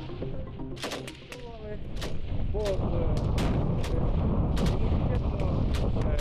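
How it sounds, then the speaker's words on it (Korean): Rapid, sharp gunshots and heavy blasts from rifles and grenades ring out during a Ukrainian military training drill in Donetsk, a rough irregular volley with a voice heard briefly at the start. "사격을 비롯해 근거리 살상용 무기인 수류탄 훈련도 이뤄졌는데요"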